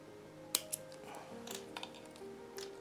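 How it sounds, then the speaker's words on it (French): Scissors snip thread flush during exotic leather or stone inlay craftwork, a couple of sharp crisp clicks early on followed by a few fainter ticks in a quiet room. "je coupe le fil à ras"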